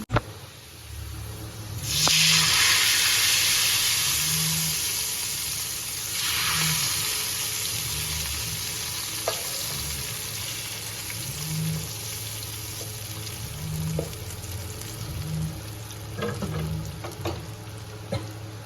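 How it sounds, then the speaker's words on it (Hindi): A hot tempering of fried onion and red chillies hits a pot of chana dal with a loud burst of sizzling that then settles into a steady crackling hiss, with stirring clinks and a low hum underneath. "तो बघार हमारा तैयार हो गया प्याज का और लाल मिर्चों का। मैंने यहाँ पे ये बघार लगा रही हूँ।"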